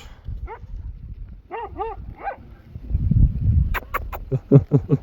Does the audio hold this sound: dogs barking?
yes